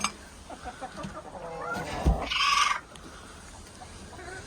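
Backyard chickens cluck and call softly on a cold, rainy, windy day, with steady rain and wind noise underneath and one louder squawk in the middle.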